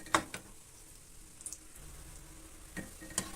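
Mutton kola balls frying in oil over a medium flame give a steady, soft sizzle, broken by a few sharp clicks and pops as they are turned, with no voices.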